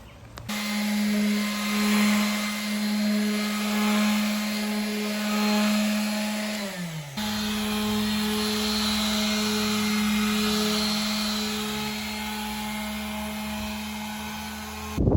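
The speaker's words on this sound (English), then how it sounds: "we're going to get a sander because we don't want to cut it anymore" An electric sander smooths a wooden subfloor panel inside a shuttle bus. It gives a loud, steady motor whine with a high buzz. The pitch dips midway as the load shifts, then it runs on evenly, close by, with no talking.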